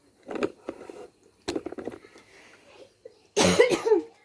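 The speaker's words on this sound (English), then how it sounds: "Sorry for the cough." A few coughs from one person nearby, ending in a loud, harsh burst of coughing.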